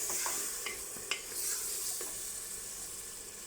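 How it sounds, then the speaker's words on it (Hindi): Onion-ginger-garlic paste frying in a pan with tomatoes, green chilli and dry spices for aloo gosht, a steady close sizzle broken by a few sharp stirring scrapes, with no talking. "अब हम इसमें टमाटर और हरी मिर्ची ऐड कर देंगे"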